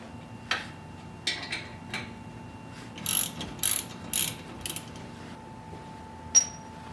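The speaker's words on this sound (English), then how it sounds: "Using a 12-point half-inch socket, go ahead and remove the brake caliper bolts." A socket ratchet clicks in short bursts while removing brake caliper bolts on a Jeep. The pawl ratchets crisply and close by, separated by brief pauses, with a faint steady hum in the workshop behind it.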